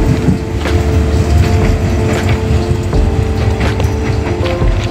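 The Pangrango passenger train of about ten cars rolls along the rails with a loud, continuous rumble and faint rhythmic clicks, heard close by with no voices.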